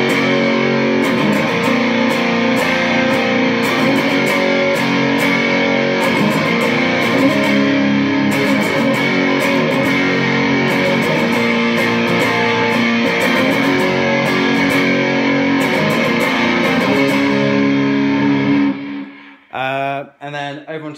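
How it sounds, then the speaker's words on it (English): Electric guitar played through a rig with a Boss DD500 delay set to a plexi echo style, a loud, dense, sustained distorted wash ringing on steadily, then cutting off near the end into a few short separate notes. "adding in a little bit of delay, which is on the Boss DD500, which is like a plexi echo type affair"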